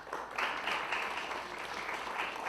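An audience applauds at a city's state of the city address, a sustained wash of many hands clapping with no break, steady and moderately loud, with no talking over it.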